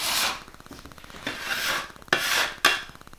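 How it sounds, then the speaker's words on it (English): Bench scraper scrapes egg pasta dough off a work surface in four short, close rasping strokes, the last two sharper and more abrupt. "But you're going to scrape up a little bit of that egg."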